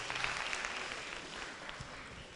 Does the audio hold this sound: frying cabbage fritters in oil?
no